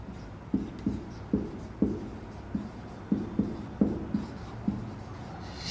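Chalk or marker writing on a board in a classroom, a series of short, regular scratching strokes, fairly close and distinct, with no one speaking.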